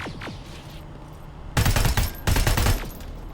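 A turret in the Terminator: Resistance video game fires two loud, dense bursts of rapid shots, each about half a second long, with a short gap between them and a steady game background.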